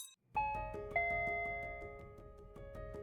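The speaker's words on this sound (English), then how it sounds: "the bell above the bookshop door jingled merrily" A bell above a bookshop door rings out twice in quick succession, bright chiming tones that linger and slowly fade under a faint rhythmic musical backing.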